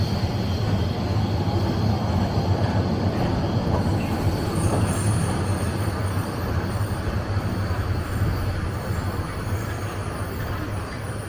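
The Cox's Bazar Express pulls into Cox's Bazar station in Bangladesh with a loud, continuous rumble of rolling wheels and high, thin wheel squeals that hold steady throughout.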